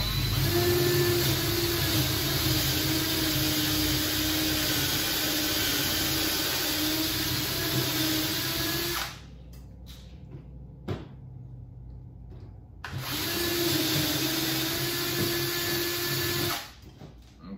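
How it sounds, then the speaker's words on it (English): Power drill boring a center hole through a wooden stilt block, a close, loud whirring drone that runs for several seconds, stops briefly with small clatters, then starts again for a second burst. "So once you have your center, you can go ahead and drill."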